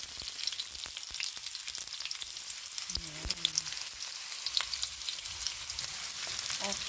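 Garlic and white onions sautéing in a pan, a steady broadband sizzle and crackle with occasional sharp pops and a brief stirring scrape, close and continuous with no voices.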